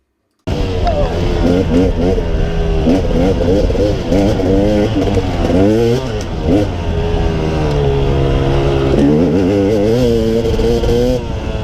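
A dirt bike engine roars up close and loud as the rider wheels through a small ditch at an angle, revs wavering and climbing continuously throughout with no pause.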